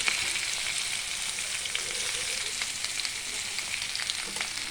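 Salted sliced potatoes fry in oil in a pan with a steady, even sizzle while they are stirred, heard close and alone.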